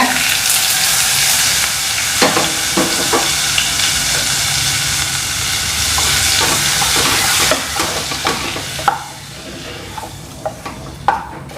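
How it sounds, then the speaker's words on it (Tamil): Hot mustard seeds in sesame oil poured over citron pachadi, giving a loud, close, sustained sizzle and hiss with scattered crackling pops that thin out toward the end. "நல்லெண்ணெயில் கொஞ்சமாக கடுகு போட்டு இந்த மாதிரி புகையணும். நல்ல சூடாக இது மேலே நீங்கள் விட்டுடுங்க."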